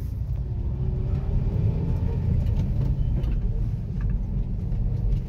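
A 2020 Hyundai Aura 1.2 SX running on sequential CNG, heard from inside the cabin while driving: a steady low engine and road rumble, constant and moderately loud, with no talking.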